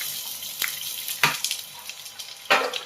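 Steady crackling sizzle of chopped onions frying in hot oil, with a few louder splashy bursts as pieces hit the pan.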